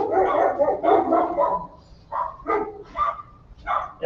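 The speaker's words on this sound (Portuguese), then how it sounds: "eles estão tudo na grade lá, latindo pro outro cachorro" Several dogs behind a fence on a street bark at another dog being walked past, giving bursts of loud, overlapping barks with short pauses between them.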